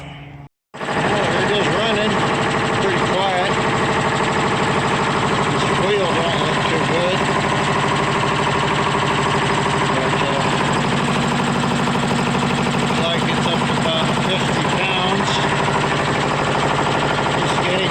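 A Harbor Freight 145 psi twin-cylinder air compressor starts up and runs with a loud, steady, rapid mechanical chugging drone that continues unbroken, with a voice talking over it.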